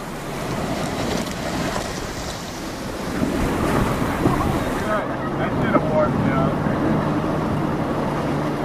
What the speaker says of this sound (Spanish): Los rápidos de la Upper Granite Gorge, uno de los más peligrosos del cañón.